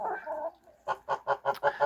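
A Naked Neck hen clucks in a quick run of five or six short notes, preceded by a softer drawn-out call, fairly faint and without any talking.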